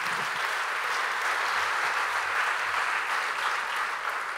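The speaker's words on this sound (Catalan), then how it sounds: "un fort aplaudiment per inaugurar aquesta gala" An audience applauds to welcome the culture councillor at a gala presenting a theatre season, a sustained, even wash of many hands clapping, steady and moderately loud throughout.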